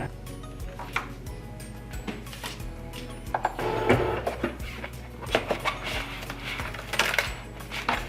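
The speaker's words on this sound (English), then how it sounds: "You just want to hit the go button after you put your fine point blade in, and it's going to cut out around that perforation." Cutting machine with a fine point blade cutting out around a perforation, heard as steady close mechanical clicking and rattling with a low motor hum underneath, growing busier and louder midway through.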